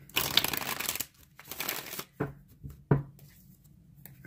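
Playing cards shuffled for a card spread, two riffling bursts of about a second each followed by two short sharp snaps, close up with no voices.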